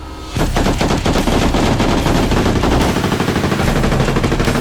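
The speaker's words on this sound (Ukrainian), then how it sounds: "Постріл!" Rapid bursts of gunfire crackle continuously after a brief quiet start, loud and sustained like automatic weapons firing nearby during frontline combat in Ukraine.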